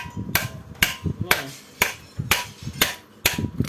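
A hammer knocks a bearing out of a copper-wound water pump motor with about eight sharp metallic strikes at an irregular, steady pace, close and loud, with faint talk in between.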